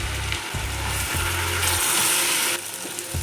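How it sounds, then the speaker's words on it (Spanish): Chicken fries in a pan for a coconut curry, a steady close sizzle broken by a few short stirring scrapes, with no one speaking. "Llevamos nuevamente el pollo a terminarlo de cocinar."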